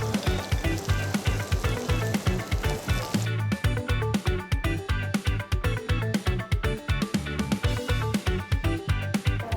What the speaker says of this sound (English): So we need to saute the pumpkin first